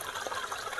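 Steady rushing water from a waterfall, a continuous broadband hiss with no breaks, fairly soft and even throughout.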